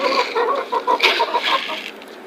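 Restless chickens waiting to be fed cluck in quick, choppy bursts, several birds close together and fairly loud, with no talking.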